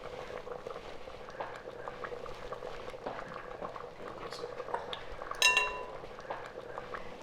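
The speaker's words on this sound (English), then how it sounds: "now it's at a nice rolling boil" Pot of dal dhokli at a rolling boil, faint steady bubbling and gurgling with occasional light clinks of a utensil against the pot, plus a brief brighter scrape near the end.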